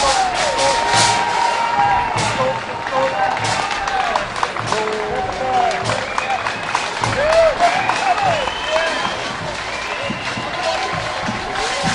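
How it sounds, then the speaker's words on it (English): Parade crowd at a Fourth of July event in Bristol, Rhode Island, applauding and cheering as a military color guard passes; dense, continuous clapping and whoops swell and sustain throughout, with scattered voices mixed in. "You can hear the applause building as they get closer."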